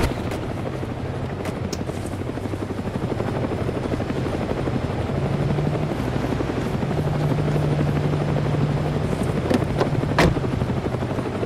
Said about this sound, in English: Wait for the chopper, everyone.